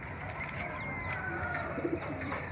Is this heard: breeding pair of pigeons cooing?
yes